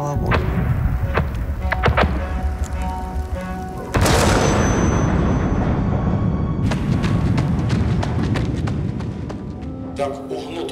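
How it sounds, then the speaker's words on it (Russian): Heavy booms and sharp impacts of shelling in Ukraine, with shells whistling overhead and a sudden loud blast partway through, set against noisy outdoor background and some voices. "Мы слышим взрывы и свист снаряда, которые пролетают прямо у нас над головой"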